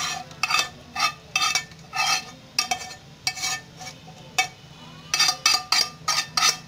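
A spinach mixture being stirred into eggs in a pan, with quick, close scraping strokes in irregular bursts and a few light clinks of utensil against cookware.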